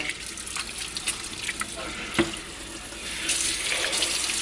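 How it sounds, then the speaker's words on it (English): Water from a kitchen tap runs steadily into a sink while beef ribs are rinsed. A close, continuous hiss swells toward the end, with small splashes and clinks over it. "Then I turn on some water."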